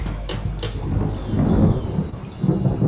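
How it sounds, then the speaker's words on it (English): Thunder rumbling during a lightning storm, low heavy rolls swelling and fading over a few seconds, with a faint rain-like hiss and no voices. "He's in a swimming pool during a lightning storm."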